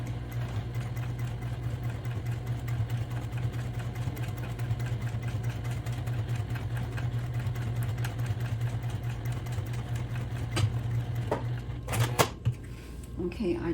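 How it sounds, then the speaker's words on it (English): A sewing machine stitching fabric for a homemade eco bag, a steady humming motor run with fast regular needle clatter for most of the stretch, stopping near the end with a few clicks, while a voice talks. "So let's go to the sewing machine."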